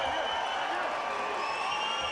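A heavyweight boxing arena crowd roars and cheers continuously in a dense, distant wash of noise, with a commentator's voice talking over it.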